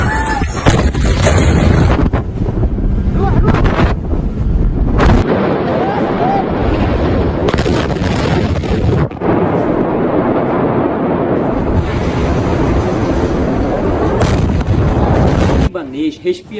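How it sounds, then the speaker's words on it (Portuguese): A loud, sustained roar of a large explosion in Lebanon that booms and rumbles on for many seconds, harsh and close. "Vídeos mostram o momento exato da explosão."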